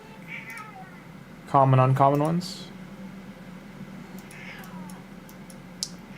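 A single cat gives one clear, drawn-out meow, loud and close, between stretches of someone talking over quiet background game sounds.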